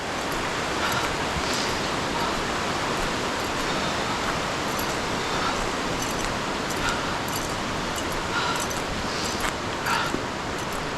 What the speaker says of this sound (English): Right there is the lip of the falls.